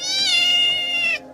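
Orphan kitten letting out one long, high, drawn-out meow, close and clear with no talk over it.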